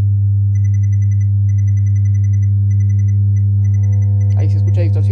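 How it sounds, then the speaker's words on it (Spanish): A 100 Hz test tone played through a speaker driven by a TPA3118 mono amplifier module at high volume, a loud, unbroken low hum with a faint repeating beeping pattern, and a short burst of voice near the end. "Vamos a empezar con un tono de 100 Hz y después vamos a probar con el de 1 kHz."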